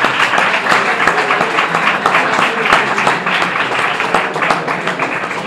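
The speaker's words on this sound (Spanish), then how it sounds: "Un aplauso para el compañero." Audience applause fills the hall throughout, a dense, steady wash of many hands clapping at a lively lecture on forgotten Spanish history, with faint voices mixed in underneath.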